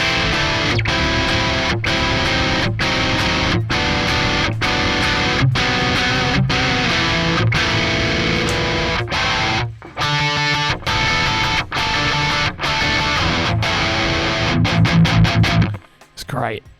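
Electric guitar with split coils runs through a Kemper liquid-profile distortion, playing dense sustained chords with rhythmic strummed accents, loud and close, briefly thinning near the middle before a busier flurry and a sudden cutoff at the end.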